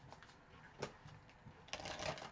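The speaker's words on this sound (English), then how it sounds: "Let me do a little shuffle of this deck as well," Cards being shuffled in a few quick, rustling bursts, fairly quiet and close, with a denser flurry of riffling near the end.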